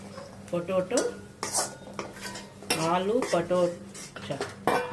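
Aloo matar fry with curry leaves and coriander is mixed in a pan with a spoon, giving metallic scraping and clanking strokes close by, with a light sizzle beneath and a voice speaking over it.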